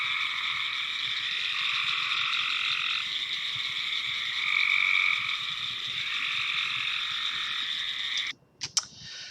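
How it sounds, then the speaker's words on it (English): Gray tree frogs, cricket frogs and green tree frogs call together in a dense, continuous chorus of trilling and clicking croaks. The chorus runs loud and steady, then cuts off abruptly near the end. "So the gray tree frog was one that was easy to hear on there."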